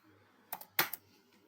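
A few quick computer keyboard keystrokes, two close clusters of crisp clicks within a second against a quiet background.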